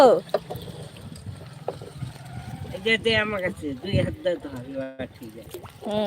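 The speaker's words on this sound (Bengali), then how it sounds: "বৈঠা ধরে নৌকা চালাবে" A wooden boat is paddled along a village river, with soft water swishes and splashes from the paddle under frequent children's and adults' chatter close by.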